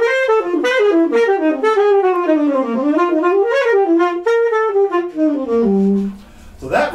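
A jazz rhythm-changes progression is played as a single, flowing line that arpeggiates and outlines the chord changes, ending on a held note before a short, noisy burst at the end.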